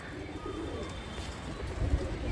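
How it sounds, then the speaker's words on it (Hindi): Pigeons coo softly in low, rolling calls against a faint background rumble, with a slightly louder burst of coos near the end. "कुछ कबूतर जो है अपने ऊपर भी चढ़ रहे हैं।"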